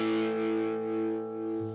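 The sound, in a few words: guitar distortion pedal, Dirty Visions Effects Lava Box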